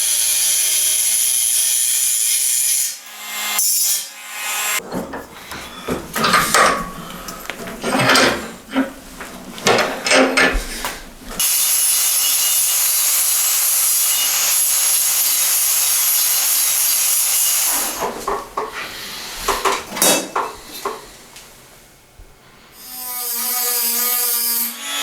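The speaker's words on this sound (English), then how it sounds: "Now I'm gonna cut off these little ears." Metal cutting on a Toyota AE86 trunk during rust repair, as small welded tabs are sheared off: long, loud, harsh grinding passes close by, broken up by irregular scraping and clattering bursts, with no talking.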